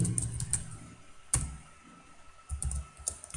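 Code being typed on a computer keyboard for a PHP and MySQL book management app, a quick irregular run of close, crisp key clicks with brief pauses between bursts and no talking.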